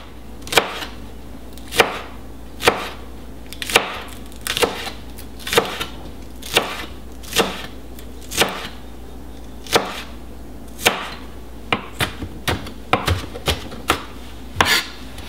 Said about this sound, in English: So just as finely as you can, chop these up in a nice little chunks